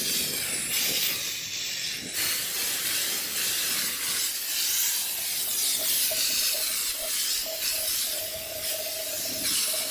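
An air sprayer hisses steadily as it coats an old David Brown tractor with a diesel and oil mix, a loud continuous rushing spray close by.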